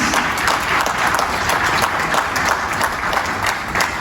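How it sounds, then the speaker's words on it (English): A crowd at an award ceremony during an educational trip bursts into loud, sustained applause, many hands clapping close together in a thick continuous roar. "let's have a huge round of applause for IRTians"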